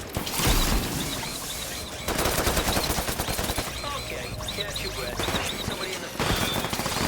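Rapid bursts of gunfire from the online shooter video game Off The Grid layered with footsteps, impacts and busy game audio, loud and dense throughout with brief pauses, with faint voice-like chatter underneath.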